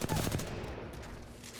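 An R99 submachine gun fires at a practice dummy in Apex Legends, a short rapid burst of loud automatic shots tailing off quickly.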